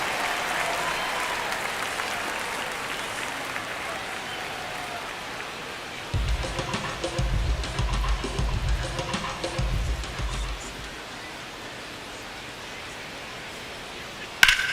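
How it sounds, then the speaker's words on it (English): Stadium crowd at Dodger Stadium in the MLB The Show baseball video game: a steady murmuring wash that swells into louder applause-like roar midway, then settles back to a low ambient hum, with no talk over it. "Crowd getting settled here at Dodger Stadium."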